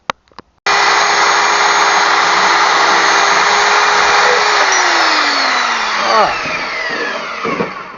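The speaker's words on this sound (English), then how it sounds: "So I'm gonna be cutting on it with this bandsaw here and make it fit." A bandsaw cuts through a metal clutch dog latch for a Willys CJ3A PTO winch, a loud steady grinding whine after a brief click, the pitch sagging near the end as the blade breaks through.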